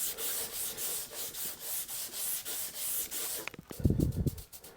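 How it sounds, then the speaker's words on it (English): A Telecaster guitar body being sanded with 400 grit sandpaper on a block, steady back-and-forth rasping strokes close up in a regular rhythm, ending with a few quicker, heavier scrubs. "So I'm going to finally go with some 400 in this grit."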